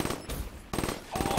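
Rapid automatic gunfire from a shooter video game, loud bursts of repeated shots broken by short pauses across the moment.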